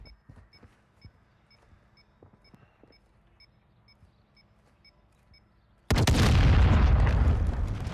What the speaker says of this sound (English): Oh, that thing's gonna blow up and kill me.